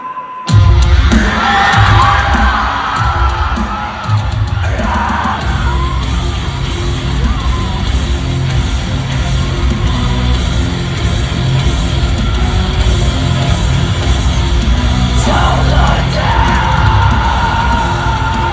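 A concert audience at the Warner Theatre in Washington, D.C., screams, yells and cheers loudly and continuously at a Sonic Symphony metal show, a dense crowd roar that swells at the start and holds steady throughout.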